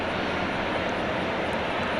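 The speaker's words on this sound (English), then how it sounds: "Oh, now the Peacock A380 comes to us" An Airbus A380 airliner at Dallas Fort Worth airport at night gives off a loud, steady broadband engine roar that holds constant and close throughout, with no voices.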